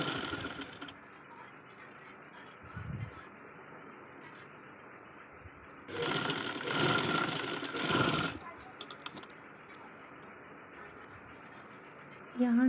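A sewing machine stitching a folded fabric round neckline, a quiet hum with a louder burst of rapid stitching for about two seconds in the middle and brief bits of motor elsewhere, under a faint background.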